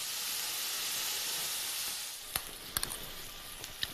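A small flattened piece of lamb kofta mixture sizzles in a hot pan, a steady close hiss that softens midway, followed by several sharp pops and crackles, with no talking.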